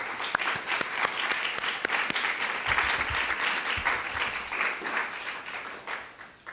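An audience at an evening poetry reading gives warm, sustained applause to welcome the poet, a dense patter of clapping that tapers off toward the end.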